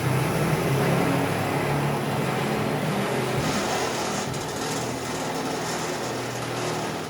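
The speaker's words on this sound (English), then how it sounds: "First things first, drill some holes." A power drill bores holes while fitting an upgrade to a Classic Bronco, stepping up to a 3/8 bit: a loud, steady motor whir that runs unbroken for about seven seconds, with no voices.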